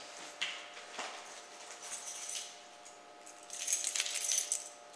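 A bunch of house keys, car keys and safe keys jangles close by in a quiet room, with light metallic clinks and rattles that swell near the end.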